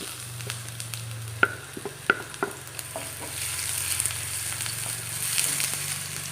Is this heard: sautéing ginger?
yes